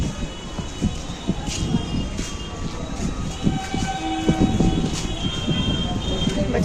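A train rumbles and clatters at a station with steady mechanical noise and faint tonal squeals, background voices murmuring.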